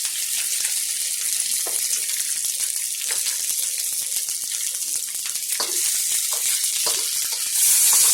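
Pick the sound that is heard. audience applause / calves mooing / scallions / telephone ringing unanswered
scallions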